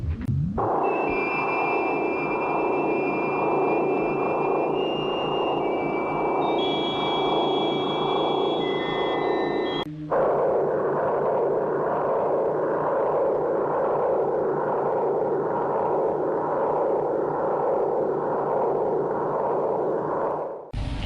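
The TARDIS from Doctor Who hums in flight, a deep, pulsing, throbbing drone with high electronic tones gliding over it, briefly cut by a click midway before the throb resumes.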